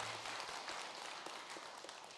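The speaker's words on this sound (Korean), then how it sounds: "박수를 크게 쳐야 되는데 이럴 때는" A faint patter of audience applause at a Korean temple talk, steady and distant, lasting a couple of seconds with no speech over it.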